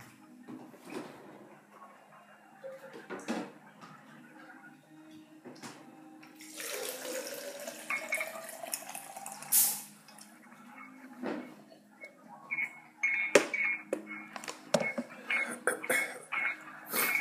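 Tap water runs in a steady, moderately close stream for a few seconds, set among clinks and small kitchen knocks, with a cough and brief throat sounds nearby.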